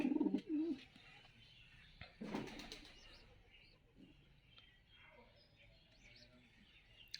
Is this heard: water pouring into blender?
no